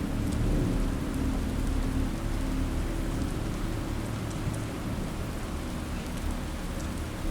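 Steady heavy rain pouring down during a thunderstorm at night, a dense continuous hiss with low rumbling underneath, loud and unbroken throughout with no voices.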